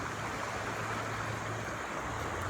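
Fast-moving river water, the kind waded while fishing for smallmouth bass, makes a constant rushing hiss and roar that stays level and fills the whole short stretch.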